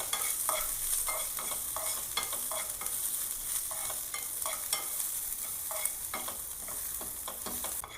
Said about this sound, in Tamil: போட்டு நல்லா வதக்கி